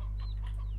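A short burst of soft, chirpy clucking from chicks in Slime Rancher over a steady low hum.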